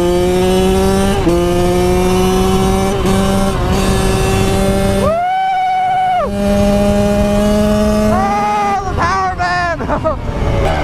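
A Kawasaki KX100 two-stroke dirt bike ridden on a street, its engine droning steadily loud and close with repeated rev rises and gear shifts, then a sharp high revving burst toward the end.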